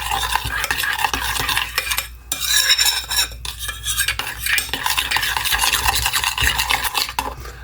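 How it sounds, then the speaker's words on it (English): Milk, salt and pepper being stirred together in a bowl: a continuous close-up scraping and clinking stir that runs almost without pause, with no talking. "we're just going to give this a mixture"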